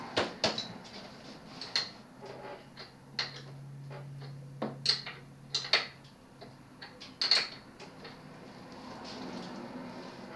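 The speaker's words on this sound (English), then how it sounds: "Using a 14 millimeter wrench." A 14 millimeter wrench tightens a bolt on a bicycle, producing irregular metallic clinks, ticks and taps close by, with a low hum running underneath for a few seconds.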